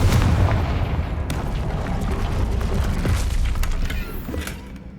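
Bombarda and Confringo spells explode in Hogwarts Legacy, producing loud booming blasts that merge into a continuous heavy rumble, dense and close, fading slightly at the end.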